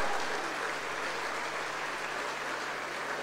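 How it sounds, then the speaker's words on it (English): An audience at a Central University of Rajasthan Foundation Day ceremony applauds its awardees with a steady, even wash of clapping that holds for the full stretch without a break or a voice. "I request the audience to kindly give a huge round of applause to all awardees of Central"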